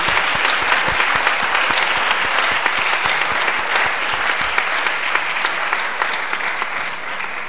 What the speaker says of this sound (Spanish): damos un aplauso final a ella